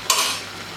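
A brief burst of sizzling as garlic water hits a hot karahi, the hiss fading quickly over under a second.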